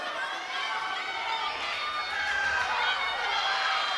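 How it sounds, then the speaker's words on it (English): A crowd at a live boxing event in Swindon cheers and murmurs for two fighters, a steady, distant wash of voices and shouts that swells slightly toward the end. "the crowd who have come to support her are on their feet, showing an appreciation for 2 fighters"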